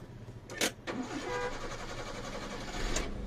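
A 2007 Maruti Versa/Eeco car engine cranks in two short bursts and then catches, settling into a steady running hum inside the cabin at a red light.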